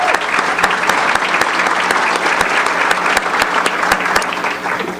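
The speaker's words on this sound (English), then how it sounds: "A little applause for Sean." Steady audience applause at a Rotary district conference honoring Sean Allen, a Senior Major Gifts Officer of the Rotary Foundation, with dense clapping holding throughout and a few sharp individual claps standing out.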